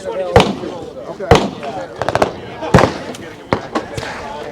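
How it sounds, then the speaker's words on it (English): Full-auto KRISS submachine gun fired at an outdoor range, a few sharp, loud reports including one rapid burst of several shots, with people talking nearby between the shots. "And they were nice enough to let us shoot the full auto subgun."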